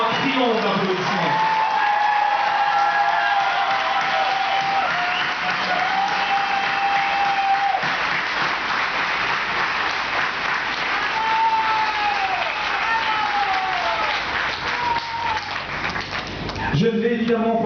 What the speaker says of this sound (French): On peut leur réserver vraiment un triomphe d'applaudissements.